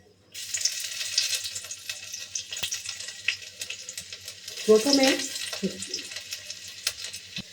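Chopped garlic and ground cinnamon frying in oil, a bright continuous sizzle close up with occasional spoon clatters and a brief louder crackle midway.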